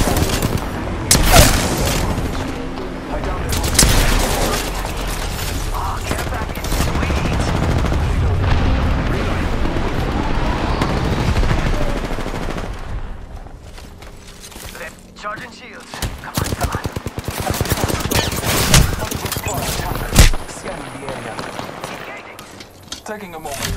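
Gunfire in the Apex Legends battle royale, with a Peacekeeper shotgun in play: loud bursts of shots and rattling automatic fire come in clusters over about twenty seconds, mixed with booms and mechanical clatter while a voice talks.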